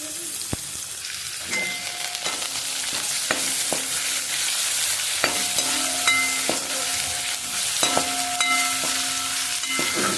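Ginger-garlic paste and chopped onion sauté in oil in a pan for a Marathi-style dal tadka, a steady close sizzle broken by scraping stirs and clinks of a spoon against the pan, with no one speaking.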